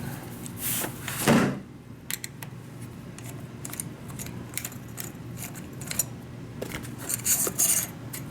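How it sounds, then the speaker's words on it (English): Metal clicks, taps and jingles of an Allen wrench working loose the magazine extension clamp on a Mossberg 930 JM Pro shotgun, close and intermittent, with a few sharper scrapes and clatters. "I'm going to go ahead and start with the Allen wrench. You got to take this clamp off."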